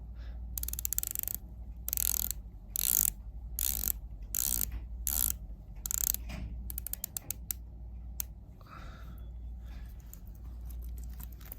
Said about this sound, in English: I think the bezel action on these new models is fantastic.